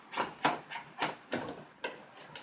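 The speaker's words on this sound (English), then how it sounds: "I'm applying that same principle with the draw knife. Taking a little bit, more controlled shavings" A draw knife takes controlled shavings off a walnut spoon blank in a series of short, close, rasping strokes, about seven or eight in a steady rhythm.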